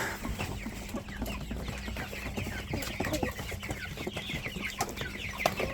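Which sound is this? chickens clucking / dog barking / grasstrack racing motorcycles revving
chickens clucking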